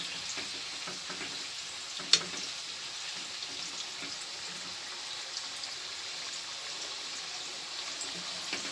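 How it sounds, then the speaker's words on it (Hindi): Onions frying in a pan for a jackfruit vegetable dish, a soft steady sizzle with occasional stirring clicks and one sharp tap, quiet and close with no talking. "थोड़ा सा भून दो,"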